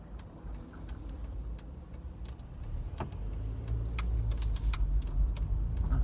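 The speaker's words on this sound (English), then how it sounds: "So I've got a possible gap coming up after these two cars." Cars pass on a road as heard from inside a moving car, with a low engine and road rumble that swells as the vehicles go by and no one speaking.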